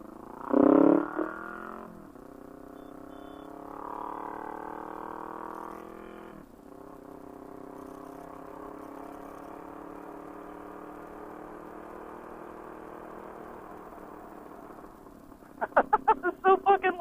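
A motorcycle engine with an exhaust leak where the mid-pipe meets the headers idles with a steady, rough drone and a raspy exhaust note, with a brief louder burst at the start and a sharp rattle near the end.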